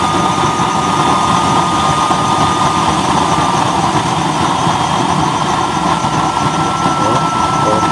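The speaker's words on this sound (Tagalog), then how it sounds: "Yan dahil talaga ang performance ng used motor oil at used cooking oil, nagpo-purple flame, eh." A no-welding nozzle burner with a 1"x1/2" coupling reducer and a 4" chamber burns used motor and cooking oil with a purple flame, giving a loud, constant roar and rumble throughout, close up and unbroken.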